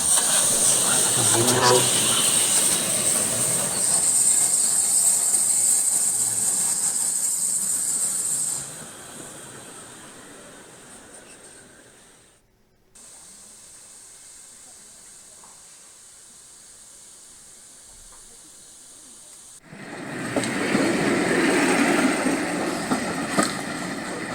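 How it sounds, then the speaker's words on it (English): A steam locomotive passes at a station, a loud sustained hiss and rumble that drops to a quieter stretch midway and then swells again near the end. "steam engine."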